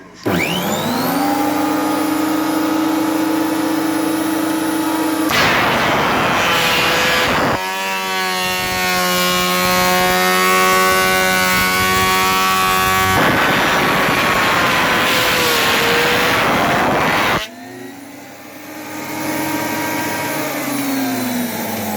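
A Makita 2012NB thickness planer runs loudly and steadily with a whining motor hum, changing to a rougher, harsher tone twice as boards feed through, then easing back, with no speech.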